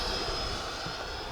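An E-flite F-16 Falcon radio-controlled jet with an 80mm electric ducted fan flies past, its steady high-pitched whooshing whine loud and continuous throughout.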